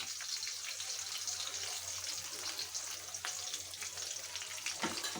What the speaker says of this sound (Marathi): आता आपण त्यात कढीपत्ता टाकणार आहोत एक कांदा टाकणार आहोत बारीक चिरलेला कांदा